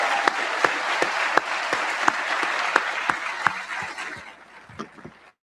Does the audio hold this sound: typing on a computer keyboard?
no